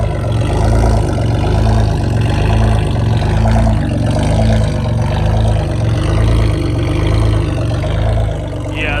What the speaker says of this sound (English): So that's why it's idling so damn loud.